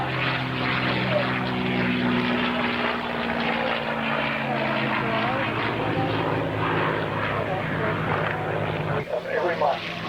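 A P-51 Mustang performing aerobatic rolls at the Warbirds over Geneseo air show in New York drones with a continuous loud propeller-engine roar, while a commentator talks over it.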